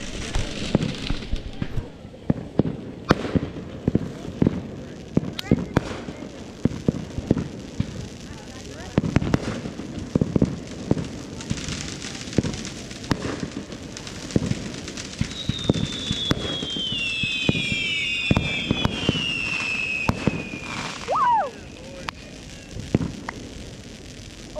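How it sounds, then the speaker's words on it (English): Fireworks set off at night by a lake, a long run of sharp crackling pops and bangs at irregular intervals, with a rising whistle near the end and voices talking between bursts. "we're lighting off fireworks this nighttime"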